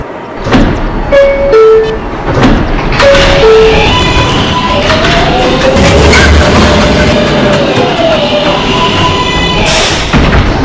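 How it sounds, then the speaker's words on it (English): An R142A 6 express subway train bound for Pelham Bay Park runs through the tunnel with a steady roar, squealing wheel tones, thumps and bursts of hiss, loud and close throughout. "This is a Pelham Bay Park-bound 6 express train."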